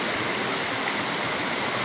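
River water flowing steadily in a rural stretch between San Juan, Kalayaan and Lumban, a loud, continuous broadband rush with no breaks or voices.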